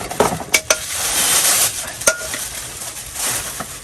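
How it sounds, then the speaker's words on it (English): Stainless steel frying pan and saucepan, induction-ready cookware, handled in a camper kitchen, giving a few sharp metallic clinks and knocks over a steady hiss of background noise. "in this set we've got frying pan, saucepan,"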